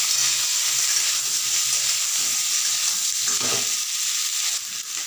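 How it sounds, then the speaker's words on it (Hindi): Boiled potatoes fry in hot oil with a loud, dense, close-up sizzle that holds steady throughout, broken only by a brief stirring scrape. "तेल गर्म हो गया है, इसमें अब आलू को डाल के"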